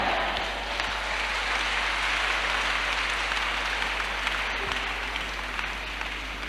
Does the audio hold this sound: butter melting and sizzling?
no